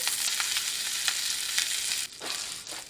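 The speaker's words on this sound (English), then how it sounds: "you hear that grease sizzling in there?" Steady crackling sizzle of grease frying in a pan, loud and close, with a brief dip near the end before the hiss resumes.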